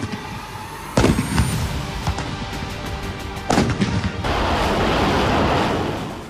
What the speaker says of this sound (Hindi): यह तोपों वाली सलामी भी पाकिस्तान की झूठी जीत का सबूत है।